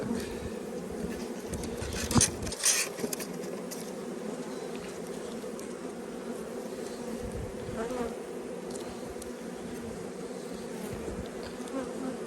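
A dense, steady hum of many Carniolan honey bees buzzing close by in a hive in early spring, with a few sharper knocks and rustles early on.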